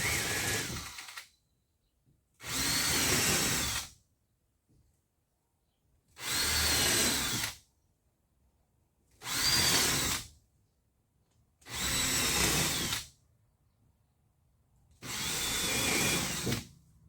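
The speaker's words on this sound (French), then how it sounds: "je mettrai des vis parce que je suis dans le bois" A power drill drives screws into wood during bathroom plumbing work, with six loud bursts of whirring, each lasting one to two seconds and separated by near silence.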